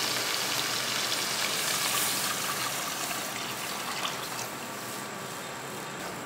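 Water pours steadily into a cooking pot for Afghani kishmish rice, a constant splashing gush that is loudest at the start and eases slightly toward the end.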